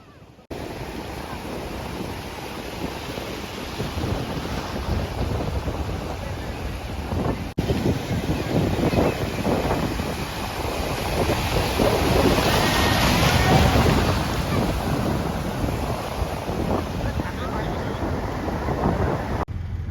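Ocean surf rolling onto Konark beach, a continuous broadband wash of breaking waves with heavy wind buffeting the microphone, swelling louder midway and holding steady to the end.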